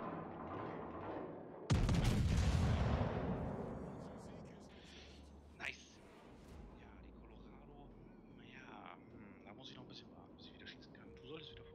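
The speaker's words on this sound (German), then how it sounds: "Ich treffe, das sind meine Kugeln, die runterkommen." Naval gun shells landing in World of Warships hit as one loud, sudden boom with a long rumbling decay. A small thud follows later, under a German-speaking player's talk.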